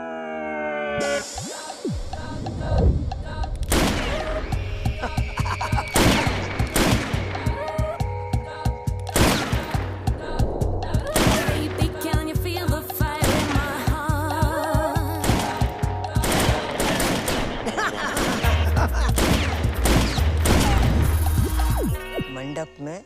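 Gunfire from an AK-47 and other guns in a movie scene rings out as sharp, loud repeated bangs spread across the scene, mixed with music and impacts.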